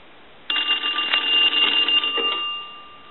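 After a brief silence, a Western Electric three-slot payphone's bell bursts into a loud, rapid metallic ring lasting about two seconds, then decays into a lingering hum.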